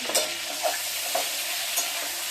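Beaten egg mixed with onion, salt and turmeric sizzles steadily in a hot pan, a continuous close frying hiss with a few soft stirring scrapes and no talking.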